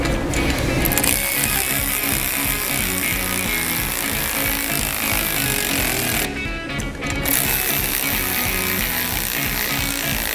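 A power tool rattles in rapid bursts, tightening bolts on a snow plow H-spring mount, loud and close, with a brief pause in the middle before the hammering resumes.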